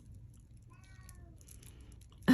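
A house cat meows faintly a few times from behind a door indoors, thin and drawn out, then a sudden close thump ends it.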